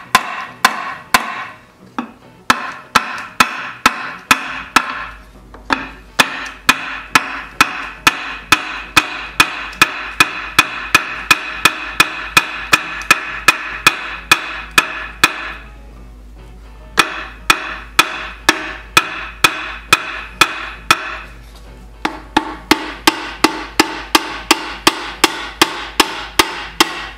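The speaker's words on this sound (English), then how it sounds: "Tap on that, Slippers, with that rawhide hammer." Rapid, steady tapping with a rawhide hammer on a wheelie horse toy under restoration, dozens of sharp knocks in quick rhythmic runs, broken by a few short pauses.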